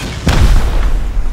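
A single loud, deep gunshot boom in the survival game Rust lands close and heavy, then a rumbling tail decays into low background noise.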